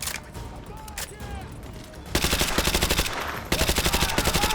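Rapid automatic gunfire from Call of Duty Modern Warfare 2 Remake, loud and close, with a bursts-like rhythm that intensifies midway and continues steadily to the end, with faint game ambience underneath.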